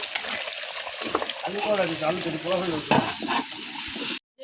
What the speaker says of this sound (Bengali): আবার নাড়াচাড়া দিয়ে দিচ্ছি